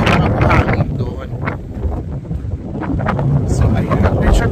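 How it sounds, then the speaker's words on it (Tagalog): Strong wind at the Pinnacles desert in Australia roars steadily into the microphone, buffeting and rumbling throughout, with indistinct voices partly buried beneath the gusts. "Ang lakas ng hangin."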